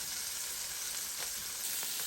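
Salisbury steak sizzles in a Power XL cooker, a steady, close, bright frying hiss with faint crackles, no voices.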